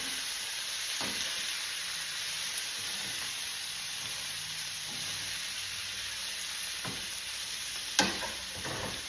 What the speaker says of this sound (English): they're really sizzling because I have the heat up pretty high